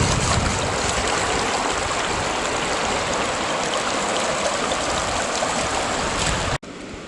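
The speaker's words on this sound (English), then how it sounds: "So there's the sluice, kind of rocking and rolling there." Water running steadily through a rocking gold prospecting sluice outdoors in Colorado, a loud, continuous rushing wash that cuts off abruptly near the end.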